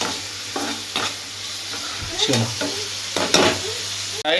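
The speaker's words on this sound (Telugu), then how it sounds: "స్ప్రింగ్ ఆనియన్స్ కూడా వేసుకొని మళ్ళీసారి మిక్స్ చేసుకోవాలి" A spatula scrapes and stirs vegetables, onions, tomatoes and spring onions through a noodle pan in repeated close strokes over a soft, steady sizzle.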